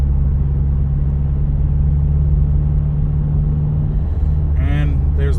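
A 2017 Subaru WRX with a boost issue creeps through traffic, giving a steady low engine and road rumble heard from inside the cabin, with someone briefly speaking near the end.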